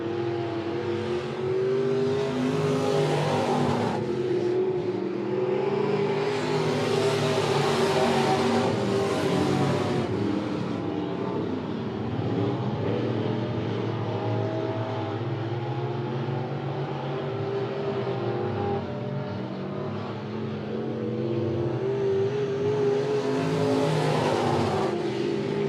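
Race cars run a heat race at Monett Motor Speedway in a field of bombers, pure stocks and legends. Engines drone and rev continuously, surging louder as cars pass near and easing as they move off.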